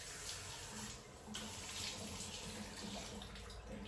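A bathroom tap runs steadily into a sink during evening face washing, a soft, even rush of water with faint splashing, fairly quiet and with no talking.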